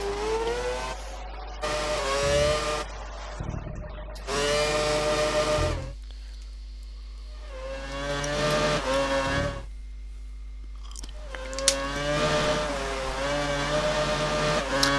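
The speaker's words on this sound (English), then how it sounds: "there's only 4 cars racing at the minute" Race car engines in F1 2012 at the Germany round, several high-pitched whines rising and falling through gear changes as cars pass, loud and continuous with brief quieter gaps, no talking.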